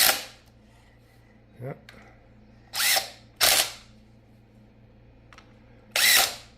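A power tool drives down bolts on a Peerless 820 transaxle in several short bursts of a few seconds each, with quiet gaps between them and a brief spoken word early on.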